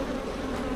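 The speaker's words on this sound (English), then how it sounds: "this is a perfect time of day to work bees" Honey bees buzz steadily around an open beehive during an inspection on a sunny day, a continuous close drone with no voices over it.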